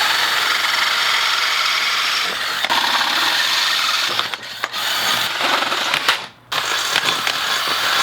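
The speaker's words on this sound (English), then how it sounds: "gotta drill out that one" A power drill bores out a misaligned hole in a racing seat bracket for a rally Miata, a loud, sustained high-pitched whine with brief dips and one short pause near the end.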